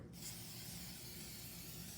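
Cooking oil spray hisses in a steady, close, continuous burst over roasted habanero peppers in a kitchen, with no talking.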